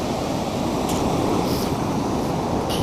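Sea waves break and wash onto a Suffolk beach in a loud continuous roar of surf, mixed with some wind buffeting the microphone and no talk.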